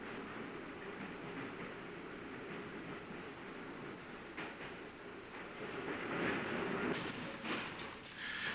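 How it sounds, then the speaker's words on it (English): A San Mateo 40 Line streetcar rumbles on its tracks at a distance, its steady noise swelling slightly as it slows to stop at Holy Cross Cemetery, with faint clanks and squeals near the end. "A southbound car stops to discharge some passengers at Holy Cross Cemetery."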